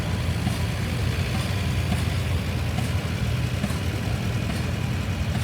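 A Farmall tractor engine idling steadily at an outdoor equipment parade, a continuous low rumbling drone, fairly loud and unchanging throughout.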